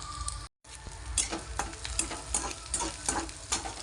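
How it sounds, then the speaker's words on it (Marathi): Chopped garlic and onion sizzling in a hot pan while being stirred, cooked as a simple Indian vegetable dish of drumstick leaves, with close crackling frying and rhythmic scraping of a spoon, no talking. "तिकडे गरम झाले चला तर टाकले लसूण आणि कांदा परतून घेते आता"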